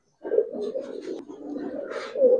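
Giribaz racer pigeons coo in a steady, soft, low warble that runs nearly unbroken, with a few louder throaty swells near the start and end, close by and with no talk over it.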